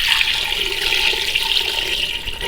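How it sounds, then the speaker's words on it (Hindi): Water pours in a loud, steady stream onto potatoes in a pot for aloo kachori, a continuous splashing gush with no voices. "आलूआं च शामिल करांगे पानी"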